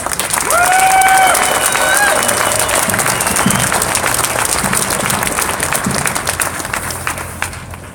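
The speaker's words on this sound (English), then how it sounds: "let's give Chuck a big round of applause" A crowd at a gun-rights rally in Ohio applauds loudly and steadily, with a few whistles and cheers rising above the dense clapping before it fades at the end.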